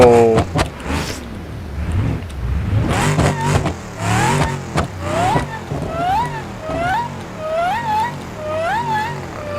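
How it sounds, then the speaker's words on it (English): A drifting car revs hard in repeated rising and falling surges, its supercharger whine sweeping up and down with each blip, close and loud, with excited voices early on. "Listen to that supercharger line."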